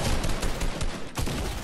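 Rapid bursts of gunfire in a Fortnite match, dense and continuous with several sharper volleys, loud and close throughout.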